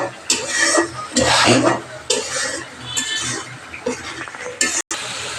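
Spices and ingredients stirred in a cooking pot make scraping, rattling spoon strokes with soft sizzling, close and fairly loud, broken by a brief pause.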